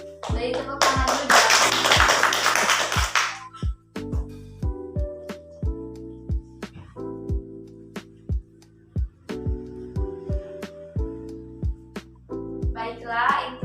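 A short burst of dense clapping from a classroom audience after a student's presentation on abandoning prayer, lasting about three seconds before giving way to tonal music with sharp rhythmic taps.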